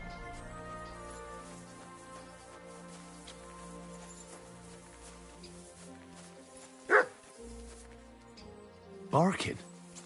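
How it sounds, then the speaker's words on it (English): A dog barks in the medieval video game Kingdom Come: Deliverance II, two short sharp barks at moderate distance over a quiet ambient game soundscape. "Barking."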